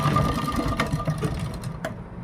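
A sewing machine stitches a kurti, putting a firm tack stitch on a folded strip of fabric, running steadily and close up with a continuous whirring hum for about two seconds.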